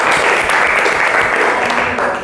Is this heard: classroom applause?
yes